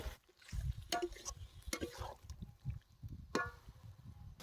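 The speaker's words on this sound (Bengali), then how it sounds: "চর্বিগুলো হালকা করে কষিয়ে নেব" Mutton fat is sautéed and stirred in a pan for an eggplant curry, with soft scraping strokes, faint sizzling and a few sharp spatula knocks against the pan's side, all fairly quiet.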